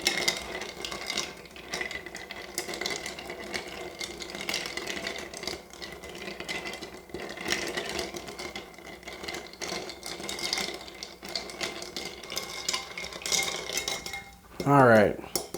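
A spoon stirring a Sazerac of straight rye whiskey over ice in a mixing glass makes a rapid, continuous tinkling of ice and metal that runs steadily for about fourteen seconds, ending in a brief louder clatter.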